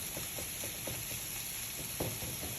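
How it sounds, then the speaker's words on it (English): Chili meat sizzling loudly in a hot pan while a spatula scrapes and crushes it, giving repeated soft scraping strokes over a steady frying hiss. "It's going to need a little bit more crushing, it looks like, which we'll just do with our"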